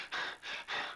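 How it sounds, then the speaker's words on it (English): Three breathy panting gasps from a cartoon character in a Disney animation, evenly spaced, close and fairly loud, with no other sound around them. "this guy ought to be panting. He ought to be having trouble"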